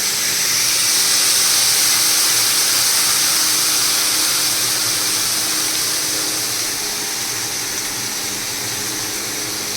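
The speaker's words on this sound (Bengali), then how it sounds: "এক বাটি মতো জল দিয়ে উপরে উপরে আমি জলটা ঢেলে দেব" Water poured from a bowl over ground mustard paste in a home kitchen, a steady loud hissing splash that runs unbroken for several seconds and eases slightly toward the end.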